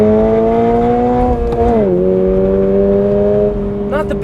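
Engine of a 2022 Toyota GR86 revs from inside the cabin, a steady droning tone that rises, drops and settles at a lower pitch, loud and continuous with some mechanical hum underneath.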